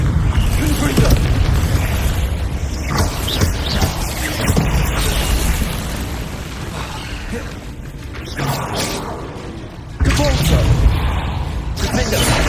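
Booming spell explosions burst repeatedly in the Hogwarts Legacy video game amid loud battle noise and mechanisms, with a voice calling out over the dense, continuous din.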